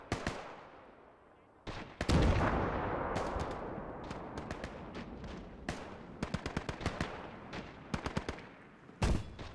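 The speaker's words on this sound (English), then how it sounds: "Oh, and the first couple of shots have rung out. First round in the mortar." Gunfire in the World War II strategy game Gates of Hell, in a battle of Soviet troops against Americans in Alaska in 1946, as a mortar opens up: sharp cracking shots, some in quick bursts, with heavier booming impacts between them.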